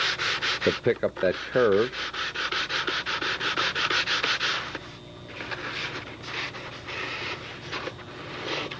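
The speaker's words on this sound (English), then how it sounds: "Piece of sticky back sandpaper in there." Sticky-back sandpaper rubs against a wooden workpiece, sanding along a curve in steady, repeated strokes that sound close and fairly loud. A few brief words are spoken over the scraping.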